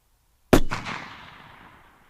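A single sharp precision rifle shot at a 600-yard range cracks out once, loud and close, followed by a quick echo and a long, fading rumble rolling across the open range.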